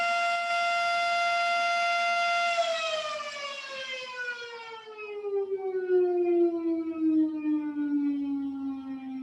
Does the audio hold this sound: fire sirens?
yes